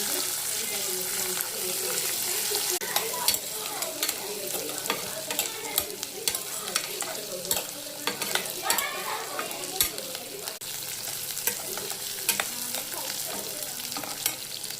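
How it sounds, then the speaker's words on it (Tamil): Onion and garlic sautéing in a pan with toasted urad dal for an Andhra-style garlic chutney: a steady, dense sizzle runs throughout, broken by frequent scraping and clicking stir strokes. "இப்போ வெங்காயம் போட்டுக்கலாம். கூடயே பூண்டும் போட்டு வணக்கிடலாம்."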